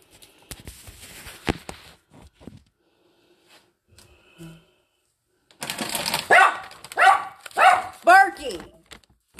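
A nearby dog gives a quick run of four or five loud barks, following a quieter stretch of tapping and rustling.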